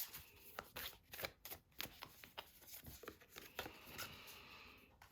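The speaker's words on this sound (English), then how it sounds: "I'm going to pull another couple of Moonology cards for you." Moonology oracle cards are shuffled by hand in a quiet room, producing repeated soft riffling bursts and papery flicks in an uneven rhythm, close and faint with no talking.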